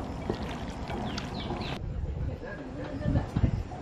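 Garlic being stirred in a hot wok, a busy sizzling and scraping wash with clattering spatula strokes throughout, while people talk nearby in a lively kitchen.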